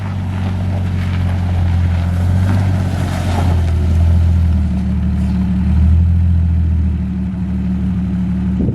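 A 1998 Jeep Cherokee engine roars loudly and steadily as the vehicle is driven and drifted, its deep rumble swelling and easing over several seconds, with no talking.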